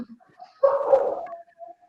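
A dog barks faintly in the distance during an online talk, one short muffled bark with a few soft yips around it, far off and quiet.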